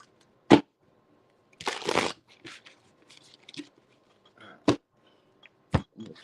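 Scattered crisp card riffles and snaps, a few sharp bursts separated by quiet, with one longer rustling shuffle near the start.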